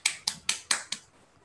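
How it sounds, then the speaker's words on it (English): Five sharp, evenly spaced claps sound close and clear over a video call, then fade into quiet. "let's clap for all of them"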